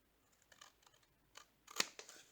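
Scissors snip paper corners in a few light, close cuts, ending in one sharper, louder snip.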